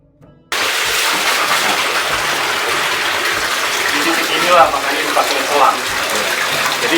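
Water streams steadily from a single point at a spring inside the Safarwadi cave at Pamijahan, a continuous splashing rush that stays loud and close throughout, with a few brief louder splashes.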